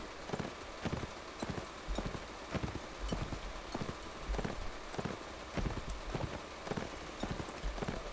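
Video game horse hooves clip-clop in a steady, even rhythm throughout, moderately faint against a soft rain-like background wash, with no talking.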